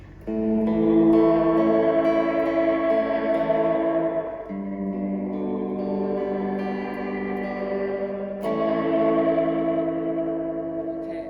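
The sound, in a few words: Fender Reflecting Pool pedal reverb and tape echo on guitar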